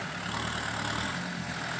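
A Kubota M6040 tractor pushes a pile of soil, its engine a steady, moderately loud drone that holds unchanged throughout.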